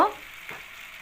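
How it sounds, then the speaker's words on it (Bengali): Taro pieces fry in a pan with a pinch of salt, giving a soft, steady sizzle after a brief initial clatter, with no voices. "তো কচুটা আমি লাল লাল করে ভেজে নেব।"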